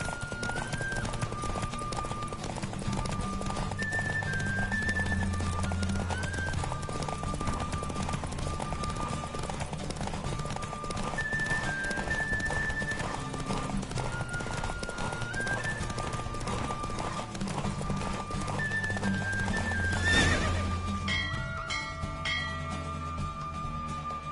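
Rhythmic hoofbeats of a galloping horse in The Witcher 3 run steadily throughout over game music, with a brief whoosh near the end.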